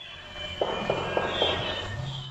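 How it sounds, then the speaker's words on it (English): Four quick, evenly spaced cracks of .22 automatic rifle or pistol gunfire, fairly faint and distant, heard over a steady low background hum. "Unmistakable cracks of a .22 automatic rifle or pistol."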